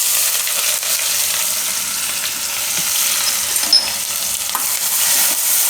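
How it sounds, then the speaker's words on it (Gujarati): Onion and asafoetida fry and get stirred in hot oil for a Gujarati suran (elephant foot yam) dish, giving a steady, loud, close sizzle with scraping stirs and no talk. "ડુંગળી થોડીક વાર તેલમાં ફેરવી લેવું, 1-2 મિનિટ માટે."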